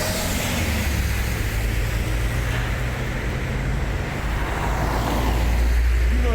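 Road traffic roars steadily as a truck towing a trailer loaded with a BMW passes by, a loud, continuous rumble of engine and tyre noise with no gaps and no talk.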